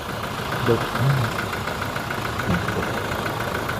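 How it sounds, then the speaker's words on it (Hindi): A 2019 Toyota Innova Crysta GX diesel engine idles steadily with a low, even rumble, a few faint thumps and murmurs rising briefly over it. "इंजन का साउंड आप सुनिए"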